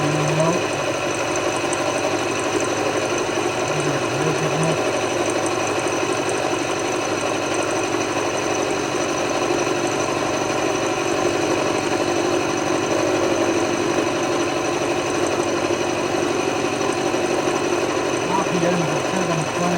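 A 5-cylinder rotary steam engine runs smoothly at 720 RPM, a fast even mechanical chatter over a steady hum, with a few brief vocal sounds drifting in from the background.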